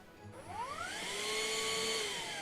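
A vacuum cleaner runs steadily with a rising whine that settles into a sustained hum, fairly quiet and heard alone.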